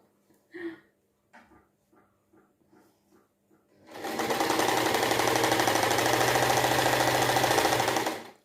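Sewing machine stitching a bolster cover in a camper van, a few soft taps and clicks first, then a loud, steady, fast whirring run lasting about four seconds.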